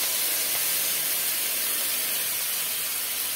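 Grated tomatoes hit a hot pan of chopped green chillies, giving a steady, loud broadband sizzle and hiss that holds evenly with no voices over it.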